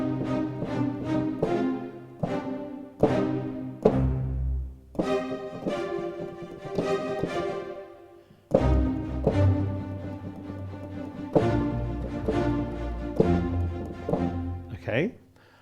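Short, detached spiccato notes from a sampled orchestral string library played in quick succession, with bursts of rhythmic repeated strokes and a dry, close room sound without added reverb.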